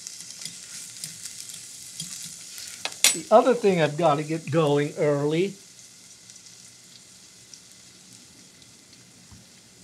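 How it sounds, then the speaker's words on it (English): Steady, crackling sizzle of food frying in a pan, with someone speaking briefly over it partway through. "You hear that nice sizzle?"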